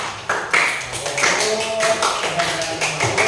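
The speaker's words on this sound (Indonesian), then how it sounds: "Oke, berikan tepuk tangan untuk mereka." Classroom applause breaks out for a discussion group, a spread of taps and claps that runs steadily for a few seconds, close and moderately loud, with a faint tonal ring over it.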